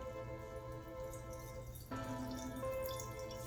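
Water drips and trickles as grated cauliflower wrapped in a towel is squeezed, producing faint, close, irregular droplets over a quiet background.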